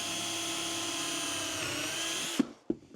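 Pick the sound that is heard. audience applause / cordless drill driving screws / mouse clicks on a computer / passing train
cordless drill driving screws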